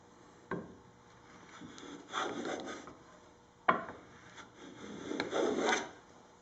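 A blade shaving wood while building a Les Paul electric guitar, two separate strokes, each opening with a sharp catch and followed by a rasping scrape, close and quiet in a still workshop with no voices.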